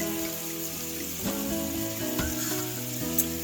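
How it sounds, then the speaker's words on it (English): Turkey meatballs sizzle in a pan, a dense, even frying hiss that holds steady throughout, broken by a few faint clinks, with no voices. "I'm going to go ahead and let those cook down"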